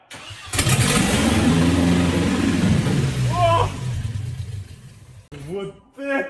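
A Mercedes W202 Kompressor car engine, newly replaced, cranks and catches, then roars and revs loudly for several seconds before dropping off, with brief voices near the end.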